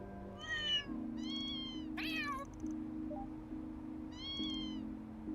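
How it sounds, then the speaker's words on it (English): Several cats meow in Trails Through Daybreak II near a bathhouse, giving a few clear, separate high calls over a steady low hum. "Kitty with the cats."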